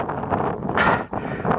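Strong wind roaring across the summit of Komsomolets peak at 4204 m in December, loud buffeting gusts that swell, drop briefly, then return close to the microphone.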